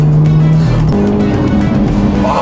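A car's exhaust crackles with popcorn-style pops as the engine revs, loud and close, with a run of sharp bursts over a steady engine drone for a couple of seconds.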